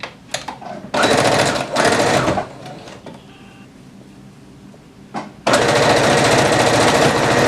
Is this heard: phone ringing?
no